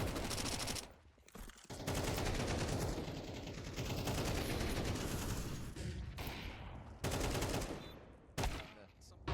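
Dense bursts of automatic rifle fire from a professional Counter-Strike match between G2 and Team Liquid, loud sustained volleys broken by brief gaps, with a commentator's voice faintly underneath.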